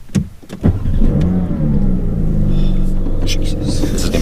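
A 2022 Porsche 911 GT3 Touring starts up: a few sharp clicks and cranking, then the engine catches and settles into a loud, steady rumbling idle up close, with people talking over it.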